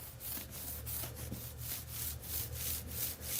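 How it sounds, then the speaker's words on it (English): Fingers rub back and forth over unwaxed car paint coated in stuck-on dirt and grime, producing a raspy, close scratching that repeats in a quick, steady rhythm of about three strokes a second, quiet and with no talking. "So if I rub my fingers on it,"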